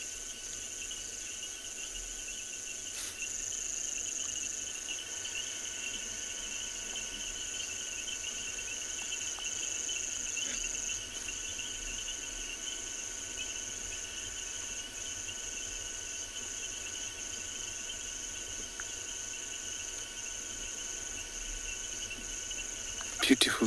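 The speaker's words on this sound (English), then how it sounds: "Just listen to how he's breathing and the crocs and the frogs croaking out there." Night chorus of frogs croaking in the African bush, a steady faint drone of calls with crickets trilling continuously in the background throughout, no voices.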